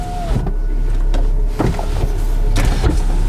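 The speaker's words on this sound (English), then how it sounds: "And then it completes by putting the windows up as well." Electric windows on a BMW convertible closing, a steady whirring motor hum with faint mechanical clicks and thuds as the glass rises, close and continuous with no voices.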